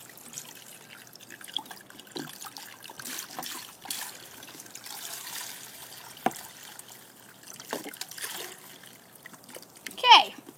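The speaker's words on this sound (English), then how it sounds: "I'm going to take the vinegar and I'm going to pour the vinegar into the bowl." Vinegar poured into a bowl in a home kitchen, a faint trickle and light splashing at close range, intermittent and quiet, with a brief sharper splash near the end.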